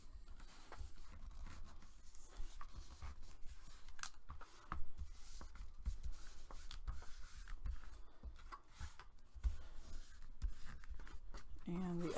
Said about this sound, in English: Start in the center, pushing that paper up and over and pressing it down flat